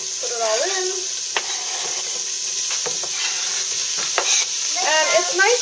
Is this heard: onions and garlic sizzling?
yes